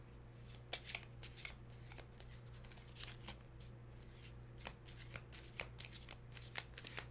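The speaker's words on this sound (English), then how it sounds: "Can't fast forward my intuitive shuffling in a live stream, y'all." Tarot cards are shuffled by hand in a quiet room during a live reading, giving repeated soft riffling and tapping bursts over a low steady hum.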